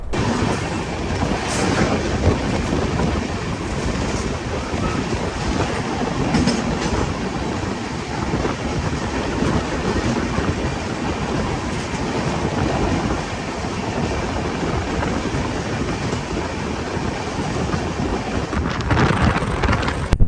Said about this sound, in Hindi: देखो बैक टू बैक क्रॉसिंग्स तो हो रही है